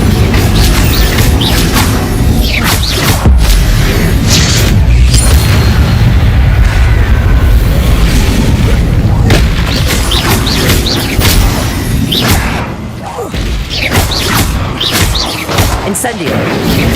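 A fire spell cast in a fantasy wizard action game: loud whooshing bursts and booming blasts roll on continuously, with crackling flame and impacts over a dense background of game effects.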